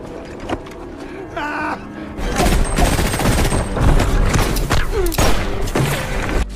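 Gunfire erupts in a war film about a Russian weapon inventor, with a quieter stretch first and then dense bursts of automatic shots and booms filling the rest, loud and continuous.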